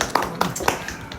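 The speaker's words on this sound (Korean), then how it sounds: "그래도 우리 박수를 한번 해줍시다." A small group at a youth church gathering clapping hands, a handful of distinct, uneven claps close by in a quiet room.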